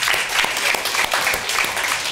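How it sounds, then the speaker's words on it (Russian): Audience in a Russian talk show studio applauds steadily, a continuous wash of many hands clapping for about two seconds at a fairly strong, even level. "Аплодисменты Леше Гуфу."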